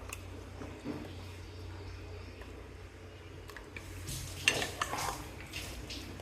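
Wagle fish curry being mixed in a pan, with soft scraping and clinks of a spoon against metal that grow busier and louder toward the end over low background hum.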